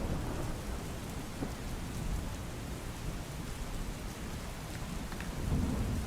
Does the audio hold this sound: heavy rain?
yes